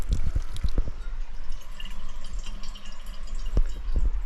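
Spring water is collected into a container outdoors in dry southern Spain, a steady running trickle with scattered drips and splashes over a soft background wash.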